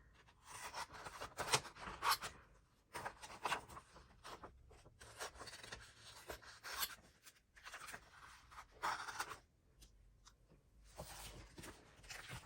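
Scissors snip through glossy magazine paper to cut out a quote, the crisp cuts and paper rustling coming in short close bursts with brief pauses between them and no talking.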